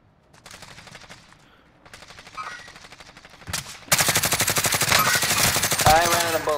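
Rapid automatic gunfire from a PS5 shooter game, faint bursts early on, then a loud sustained volley that dominates the second half.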